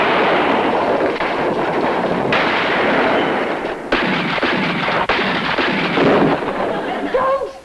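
Loud gunfire erupts in a 1966 TV drama scene: dense bursts of shots and sharp cracks continue across the whole stretch, with abrupt shifts in loudness and no clear pause.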